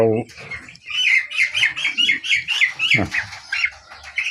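Meat birds in a pen chirp and squawk close by in a busy, overlapping chorus of short calls, with a low voice briefly heard underneath.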